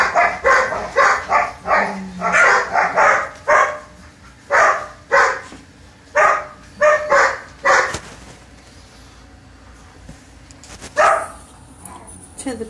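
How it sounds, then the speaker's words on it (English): Several dogs, including grown dogs and puppies, bark in rapid bursts of close, loud barks that come in clusters and then pause into near quiet, followed by a final bark. "To the people that aren't used to the barking, just think of it as your children playing."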